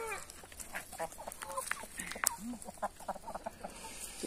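Chickens cluck and squawk in scattered bursts around a farm coop, close and fairly busy, with rustling and a brief faint human voice in the background.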